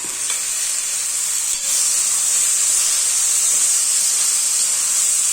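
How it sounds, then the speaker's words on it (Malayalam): Boiled squid hitting a hot pan of masala for a pepper roast, setting off a loud, steady hissing sizzle that briefly dips once and then continues unbroken, with no voices. "ഇനി നമുക്കിതിലേക്ക് വേവിച്ച് വെച്ചിട്ടുള്ള കൂന്തൽ ഉണ്ടല്ലോ, അതിട്ട് കൊടുക്കാം."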